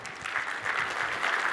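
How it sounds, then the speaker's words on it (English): A seated crowd at a dance performance gives a short round of steady, moderately loud clapping with no voices. "Let us give them another round of applause."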